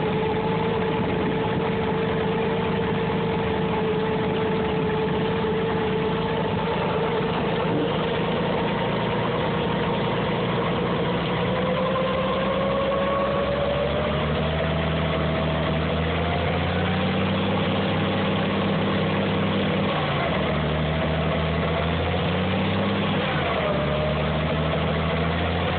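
A Farmall 460 tractor engine runs after a hard cold start, idling steadily up close with a deep, throbbing rumble, its pitch wavering and dipping in the later part as the speed hunts unevenly.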